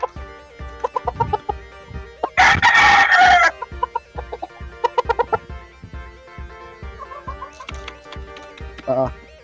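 Four-month-old breeder fighting roosters crow loudly and nearby in one long burst, surrounded by repeated clucking and short calls from the flock, with quieter crowing near the end.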